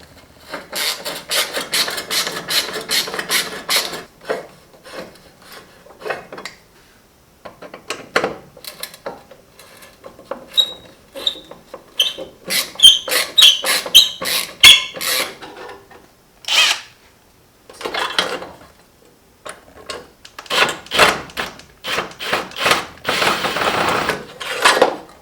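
A T15 Torx driver backs screws out of a Jeep XJ headlight bracket, making close, intermittent bursts of rapid clicking and ratcheting separated by short pauses.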